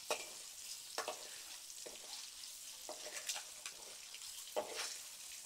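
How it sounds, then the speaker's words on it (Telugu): Boiled eggs deep frying in oil over a high flame give a steady, faint sizzle with occasional louder crackles and utensil touches, no talking. "జస్ట్ 1 మినిట్ డీప్ ఫ్రై చేసేసుకుంటే సరిపోయింది"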